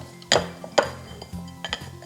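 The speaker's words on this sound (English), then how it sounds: "Now using a pastry cutter, or you can use your fingers" A pastry cutter works butter into flour in a bowl, producing a few close, sharp metallic clinks and scrapes against the bowl at irregular intervals, with quiet pauses between.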